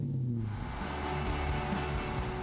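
The supercharged 4.7-litre V8 of a Cord 812 SC gives a steady, dense engine roar that holds at an even loudness throughout, with no voices over it.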